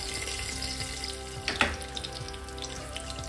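Fennel seeds crackle and sizzle steadily in hot ghee for a jaggery rice tempering, with a brief louder spatter partway through and a constant hiss underneath.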